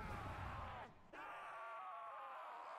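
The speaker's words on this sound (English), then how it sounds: "That is a zombie scream." A zombie screams in a video game, a loud sustained groaning cry that breaks off briefly partway through and then carries on.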